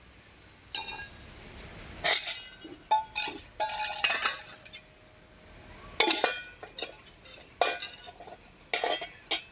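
Spoons and other utensils clink and clatter as they are dropped into a basket in a home kitchen, sharp metallic chinks arriving in irregular bursts with short pauses between, close and fairly loud, with no voices.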